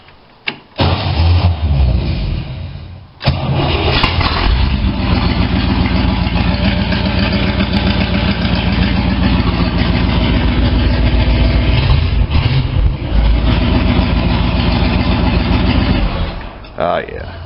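A 1962 Cadillac DeVille runs through an open exhaust with a loud, steady, deep rumble that goes on throughout. It sounds close and unbroken, with a couple of brief knocks near the start.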